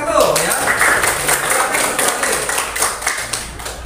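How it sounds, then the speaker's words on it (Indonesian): Classroom applause for the first student group after a presentation, a dense patter of many hands clapping at close range throughout, with voices mixed in. "Tepuk tangan buat kelompok 1 ya."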